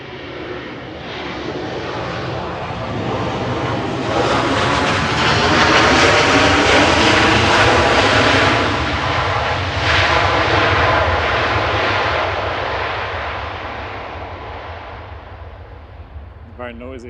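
A 36-year-old Boeing 757 takes off at Manchester Airport, a loud, broad jet roar that builds over several seconds, peaks mid-clip and slowly fades as it climbs away, with no talk over it.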